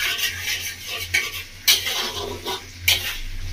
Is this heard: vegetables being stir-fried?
yes